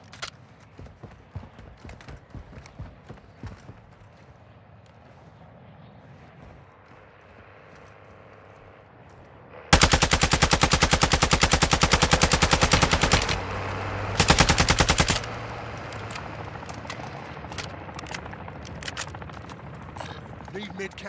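Gunfire rings out in Call of Duty Warzone DMZ: scattered distant shots, then a loud, close, rapid burst of automatic fire lasting several seconds, a pause, and another short burst, over background game noise and radio voices.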